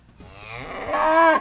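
A cow moos in a video game milking minigame, a single drawn-out moo rising and swelling to a loud close-up finish before cutting off.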